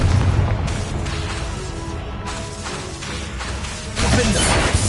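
Confringo blasting spell explosions in a Harry Potter video game, loud booming bursts with dense crashing noise filling the whole stretch, swelling again near the end.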